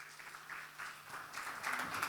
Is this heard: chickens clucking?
no